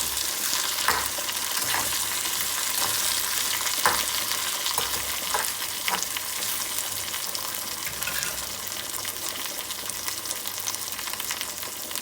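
Steady, crackling sizzle of tempering spices and curry leaves frying in hot oil, with occasional sharper pops over a constant hiss.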